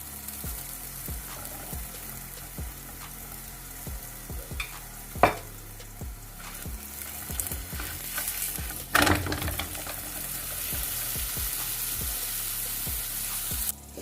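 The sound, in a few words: makki ki roti sizzling with ghee and oil on griddle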